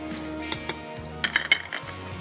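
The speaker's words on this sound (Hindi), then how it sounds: "पाए डाल के अच्छे से भुनाई करनी है इसकी।" Paya (trotters) being roasted in a cooking pot, with a few sharp metallic clinks and scrapes of a utensil against the pot over a low background hum.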